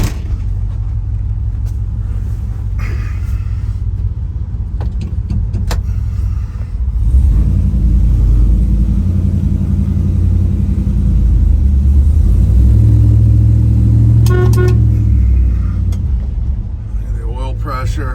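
A 1972 Chevrolet C10 shop truck with an LS2 6.0 engine is driving, giving a steady low engine rumble and road noise that swells partway through. A voice talks over it, with a few clicks and a brief rattle.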